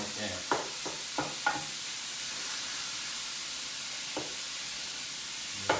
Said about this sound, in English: just break this down and let it just cook. Break it all up.